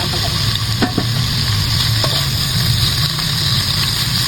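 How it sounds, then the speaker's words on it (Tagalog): Ham fries in a little oil in a hot pan, a loud, steady sizzle with occasional clicks and scrapes from stirring, no voices. "At, i-fry natin ang ating ham."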